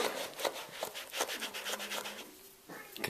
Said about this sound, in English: you just want to rub it into the leather